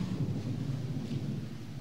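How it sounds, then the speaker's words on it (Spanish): Deep, continuous rumble of thunder from an approaching storm, a steady low roll with faint rain hiss, heard alone without voices. "Va a caer una tormenta increíble."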